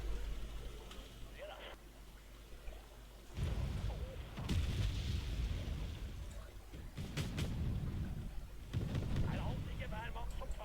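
Artillery fire support in a real-time strategy video game, with repeated booming blasts and rumbling explosions at 3, 4.5, 7 and 9 seconds over a low battlefield hum, with talking throughout.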